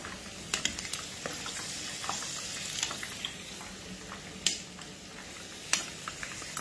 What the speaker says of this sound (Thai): ทอดแค่พอเหลืองพอนะจ๊ะ